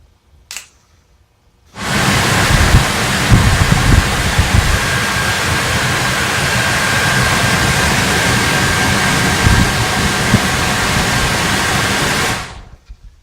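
A repaired VW Vanagon heater fan motor switches on and runs as a loud, steady whooshing whir of blown air for about ten seconds, then cuts off.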